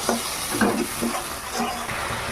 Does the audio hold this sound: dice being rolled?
no